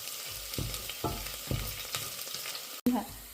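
Onions sautéing in a pan for crab curry, a gentle sizzle broken by regular scraping stirs, ending with a sharp clank of the spoon.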